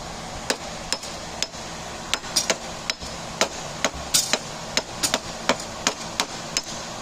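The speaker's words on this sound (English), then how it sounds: "you want to hit here with a hammer like this" A hammer strikes a part of a Graco 3900 LineLazer line striper with a clog, sharp clanks at an irregular pace, about fifteen blows in close succession.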